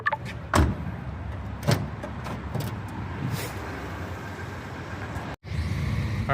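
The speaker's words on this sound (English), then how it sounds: "All right, we're in the Jimny now. We're driving." A Suzuki Jimny heard from inside: a couple of sharp door thumps near the start, then a steady low engine and road rumble as the vehicle drives, briefly cut off before resuming.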